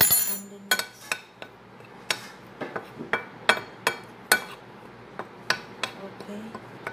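Flour with salt and black pepper being mixed in a bowl, an utensil clinking against the sides in a quick irregular series of sharp taps.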